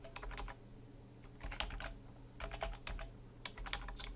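Typing on a computer keyboard while writing PHP code, bursts of quick clicky keystrokes separated by short pauses, close and moderately loud with no talk.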